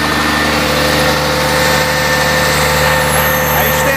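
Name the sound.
Munck truck crane engine revving with accelerator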